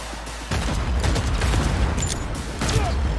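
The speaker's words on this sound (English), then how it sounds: "Pretty sure my gun fired there without my pressing the button at least once" Player's gun in Cyberpunk 2077 fires a rapid burst of loud, close shots with a dense low-end boom, pausing briefly before another volley near the end.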